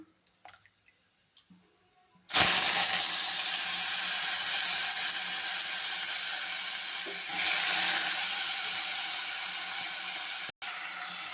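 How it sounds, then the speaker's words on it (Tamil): A loud, steady sizzle of chopped potatoes frying in a hot pan, starting abruptly after a few quiet seconds and continuing with a brief cut near the end. "இப்போ நறுக்கி வச்ச உருளைக்கிழங்கு சேர்த்துக்கிடுவோம்"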